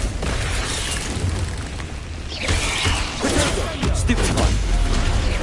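Fire and blasting spells going off in the Hogwarts Legacy video game: a dense, loud run of booming explosions and crackling bursts that overlap with almost no gap, with a speaking voice mixed in.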